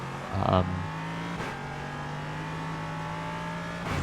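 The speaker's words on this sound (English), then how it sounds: "We easily go around the BMW on the outside of the carousel." An LMP3 race car in a racing video game passes a BMW around the outside of the carousel at Mid-Ohio, its engine droning steadily with a brief rise and fall as the other car goes by, under a commentator's voice.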